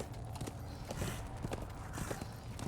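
Horse hooves clip-clopping while riding in Darksiders 2, a steady rhythmic patter of close hoofbeats over a constant background of game ambience.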